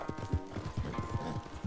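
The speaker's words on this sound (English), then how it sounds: "Missão, canse o cavalo." A horse gallops in the video game Red Dead Redemption 2, with rhythmic hoofbeats and tack jingling over a soft game backdrop, close and fairly quiet.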